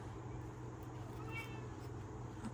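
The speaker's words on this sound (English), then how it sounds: "that's my cat in the background, y'all, whining." A pet cat whines faintly in the background of a quiet room, a soft drawn-out meow rising briefly amid low steady hum.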